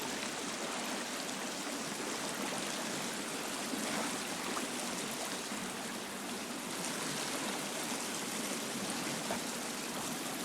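Continuous flowing water in the survival video game The Forest, a steady soft rush like a stream, moderately quiet and unbroken, with no talking.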